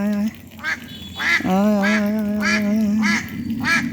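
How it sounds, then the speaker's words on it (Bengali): Ducks coming up from a village pond quack loudly and close by in a run of repeated nasal calls, with a person calling out to them between the quacks. "এই যে হাঁস পুকুর পরে আসছে তো ডাক দিতে আসতেছে"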